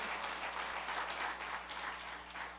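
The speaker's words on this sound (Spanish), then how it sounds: "Dele un fuerte aplauso al Señor." A church congregation applauds in a soft, even wash of clapping, heard from a distance over a low electrical hum.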